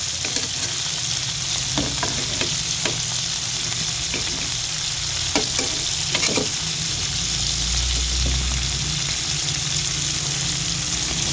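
Garlic and onion dropped into a pan with shrimp for pakbet fry with a loud continuous sizzle, with stirring scrapes and clinks of a utensil close by.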